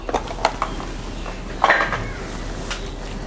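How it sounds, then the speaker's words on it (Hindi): Yogurt batter for chicken pakora being stirred in a bowl, with a few sharp spoon clinks against the dish and soft scraping in between, close and fairly quiet. "दही ऐड करने के बाद हम इसको अच्छी तरह मिक्स कर देंगे।"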